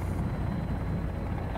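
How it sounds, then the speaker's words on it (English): A helicopter in the survival game Sons Of The Forest gives off a constant low rotor and engine drone, loud and steady throughout the short stretch. "I'm in a helicopter."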